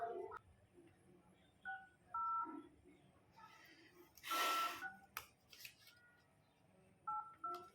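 Phone keypad tones beep one after another as a number is dialed: several short, clear tones spaced irregularly, with quiet rustling and handling noise in between.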